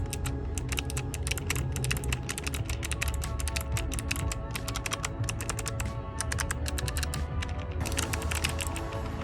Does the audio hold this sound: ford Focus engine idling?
no